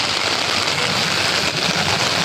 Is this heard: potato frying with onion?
no